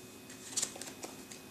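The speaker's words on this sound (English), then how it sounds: "you give the other sea cards a little quick shuffle" A small deck of board game sea cards given a quick shuffle, a faint short burst of papery riffling with a few soft taps, close and quiet.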